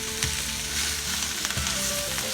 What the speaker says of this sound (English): You're gonna put it in there, let it fry a little bit, and then go ahead and add your pork.